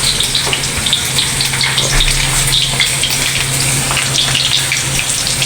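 Eggplant and okra fry in a pan for breakfast, giving a dense, constant sizzle with crackling pops close by, steady throughout with no talk over it.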